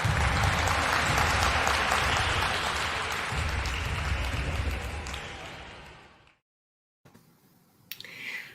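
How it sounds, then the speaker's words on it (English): Sustained applause from a large audience at an annual senior awards ceremony honoring inductees, loud and continuous for about six seconds, then fading out, followed by a brief quieter tail. "Let's give our 2021 inductees one last round of applause."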